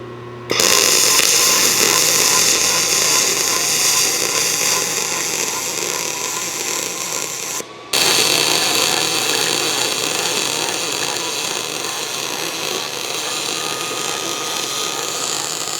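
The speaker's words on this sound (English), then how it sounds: "then we'll come back and weld it out" Welding on an aluminum horse trailer gate: a steady, loud, continuous buzzing hiss of the arc runs almost the full length, with one brief break partway through before it resumes.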